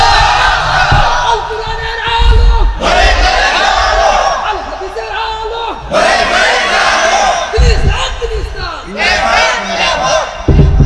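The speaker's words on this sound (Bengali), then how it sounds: "একটা তাকবীর ধ্বনি দাও।" A large crowd at an outdoor Islamic sermon gathering (tafsir mahfil) in Manikganj roars the takbir chant in loud, massed, repeated shouts. Several waves of chanting rise and fall close by, filling the whole clip.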